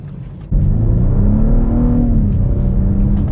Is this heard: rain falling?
no